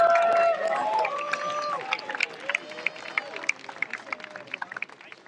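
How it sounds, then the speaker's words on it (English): An audience at the Western States 2022 ultramarathon applauds the course managers; a voice on a loudspeaker fades into a spreading, moderately distant patter of clapping. "if you could give all of them a round of applause"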